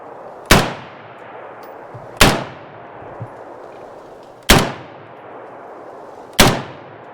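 An HK G36 rifle fires four single shots about two seconds apart. Each crack is sharp and loud, with a short ringing decay, and no one speaks.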